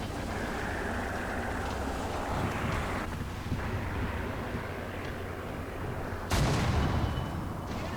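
A British 3 inch tank destroyer gun fires in War Thunder, a single booming shot standing out from a steady wind-like rumble of battlefield ambience, with no talking.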